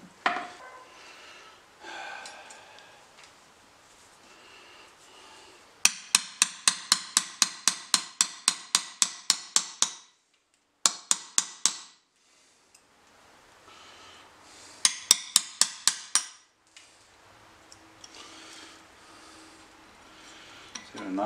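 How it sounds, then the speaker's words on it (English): A dead blow hammer strikes a wedge into an axe handle in quick, rapid bursts of sharp knocks, several rounds of evenly spaced blows separated by pauses, close and distinct. "This is a dead blow hammer. It's designed for doing stuff like that."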